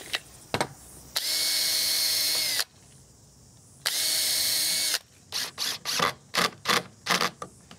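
A power drill drives screws into a wooden gate in two sustained, loud whirring bursts, followed by a rapid string of short stuttering pulses and clicks as the driver nudges the screws home.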